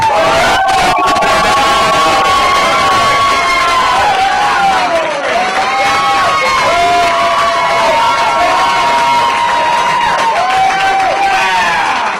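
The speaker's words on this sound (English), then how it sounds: "Big round of applause for Mr. Ken Merchant." A comedy club crowd at the Camino Real Playhouse roars for a comic with loud, sustained cheering, whoops and high shouts over a dense wash of applause that stays strong throughout.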